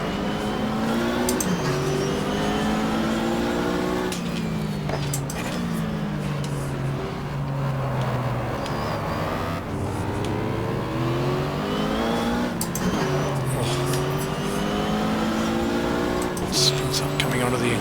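Yellow Porsche race cars howl around Daytona in the GTR2 racing game's 1995 24-hour race, the engine note climbing and dropping repeatedly through gear changes, loud and constant, with a voice talking over it.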